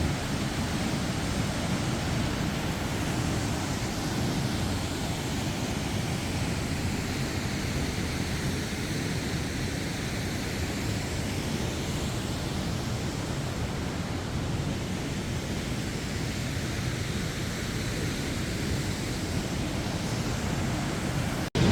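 A steady, powerful roar of rushing water from Sambuyeon Falls in Cheorwon, South Korea, fills the whole clip, broad and unchanging, with no voices over it.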